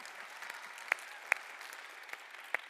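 An audience at a conference session claps in a steady, moderate round of applause, with a few sharper individual claps standing out.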